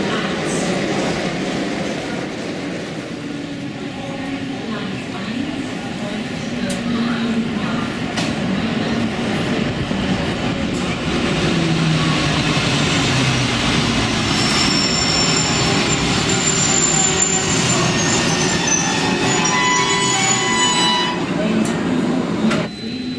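A Rhaetian Railway regional train to St. Moritz rolls at Pontresina station, a continuous rumbling rail noise with faint wheel clatter and squeal that carries steadily for over twenty seconds.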